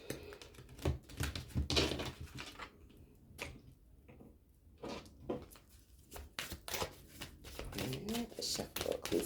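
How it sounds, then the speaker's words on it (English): Tarot cards riffled and shuffled in bursts of soft, rapid flicking, close up, with a pause midway and faint rustling. "Shuffle, cleanse these cards."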